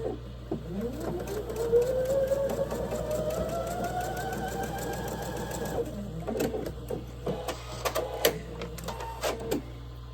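A sewing machine stitches a quilt block, its fast rhythmic needle chatter running close and steady, with a rising whirring tone early on and a few pauses and restarts near the end.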